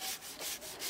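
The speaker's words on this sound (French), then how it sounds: "La brosse bronze ici va permettre d'ouvrir un peu le veinage" A bronze brush scrubs along an old wooden ladder to open up the grain, making a few quick, rhythmic rasping strokes up close.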